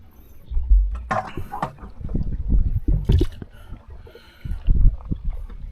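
A boat moves on water in a village setting, with low gurgling splashes and paddle-like sloshes coming and going close by, plus some wind and faint background voices.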